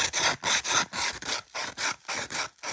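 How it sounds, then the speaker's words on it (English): Sandpaper rubs back and forth along the edge of a piece of scrap wood, a close rhythmic rasping of about eight quick strokes with brief pauses between them. "So I'll try that just with a bit of sandpaper."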